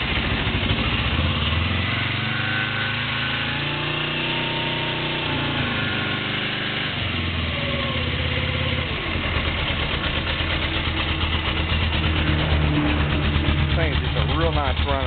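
A 1999 Suzuki GS500 motorcycle idles after a cold start, its steady, close engine rumble running continuously while someone talks over it.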